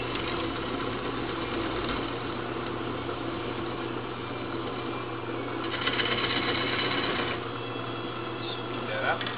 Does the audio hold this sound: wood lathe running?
yes